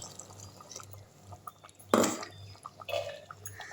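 Water swished around a spice-grinder jar and poured into a pot of coconut masala for chicken curry, a short close splash of liquid in the middle amid quiet kitchen handling noises.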